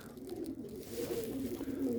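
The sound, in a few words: male pigeon cooing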